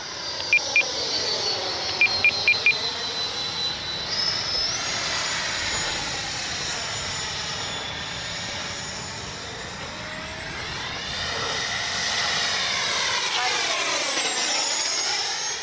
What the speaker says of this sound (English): what a sweet flying jet!